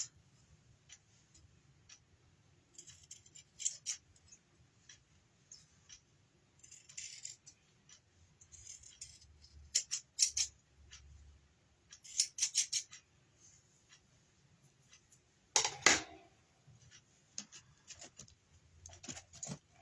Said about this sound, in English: Then I'm just going to trim the edge of these ears to make sure that the front and the back matches up.